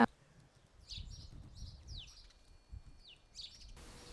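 A sparrow chirps outdoors while gathering grass for its nest: several short, quick chirps spread across a few seconds, fairly faint and distant, over a low background rumble.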